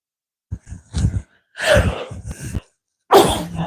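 A woman sneezes loudly and close, a few short sharp breaths building into forceful bursts, alone in a quiet room.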